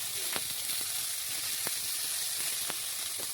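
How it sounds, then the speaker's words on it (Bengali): Thin slices of salted, turmeric-coated bitter gourd fry in hot oil, giving a constant close sizzle and hiss with scattered small pops and crackles, and no voices. "এখন আমি ওই তেলের মধ্যে দিয়ে দিচ্ছি, দেখুন সরু সরু করে উচ্ছে কেটে রেখেছি"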